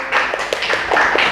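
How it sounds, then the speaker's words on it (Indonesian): A class claps for a group of students at the end of a lesson, a short burst of several quick, close hand claps over steady background noise. "Tepuk tangan buat PKJ 2."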